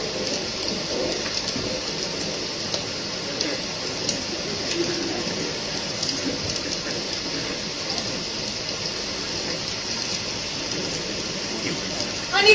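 A steady hiss of rain used as a stage sound effect in a one-act play competition fills the space evenly, with faint scattered patters and no letup.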